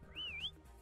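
A single sharp whistle, rising, dipping and then climbing again, sounds in the video game King of Retail. It is brief and clear against quiet background noise.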